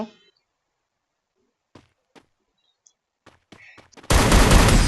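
Near the end of a mostly quiet stretch of a few soft clicks and taps, a loud, dense burst of video game gunfire erupts and continues steadily to the close.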